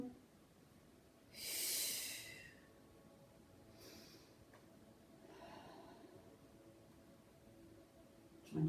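A person exhales forcefully through the nose during a matwork exercise sequence, one loud breath followed by softer, fainter breaths and quiet rustling.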